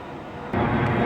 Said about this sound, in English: just arriving in now is going to be the 1423 Virgin train service to London Euston via Milton Keynes Central